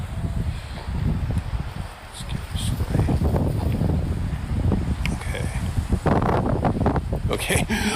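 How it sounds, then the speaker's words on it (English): Strong outdoor wind buffets the microphone in rumbling, uneven gusts, loud and close, with a person talking briefly over it. "It's really windy here"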